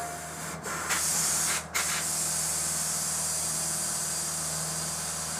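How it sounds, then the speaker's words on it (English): Compressed air hisses out of a tire changing machine in a steady loud rush, broken by two brief gaps early on before running continuously, close by with no talking. "I'm going to leave all the pressure off my tire machine"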